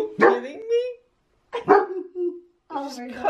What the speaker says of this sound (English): Don't bark, honey. Don't bark.